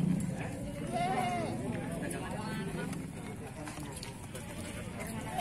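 Goats bleating among the crowd at a small village livestock market in Lampung, Indonesia; a few wavering bleats rise over constant chatter and bustle, with people talking throughout.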